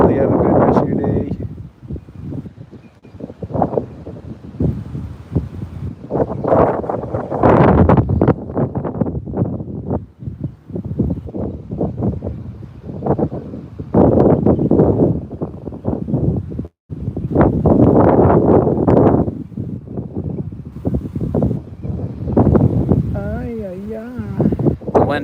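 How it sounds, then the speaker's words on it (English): Outdoors on a fishing outing, strong gusts buffet the microphone in heavy rumbling bursts that rise and fall almost continuously, with a person talking over the blustery noise. "The wind is picking up."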